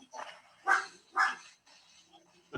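A dog gives two sharp barks about half a second apart, fairly close and clear, with faint voices and quiet room noise between them.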